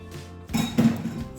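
Pancit noodles stirred in a pan with leftover napa cabbage, giving a couple of short metallic scrapes and clinks of utensil against pan over a faint sizzle.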